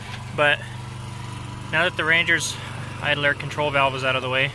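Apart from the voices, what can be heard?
lawn mower running in background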